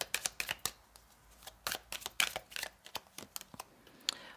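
Quick bursts of tarot cards being riffled and shuffled, crisp papery flutters in rapid succession, close by and fairly quiet, with no talking.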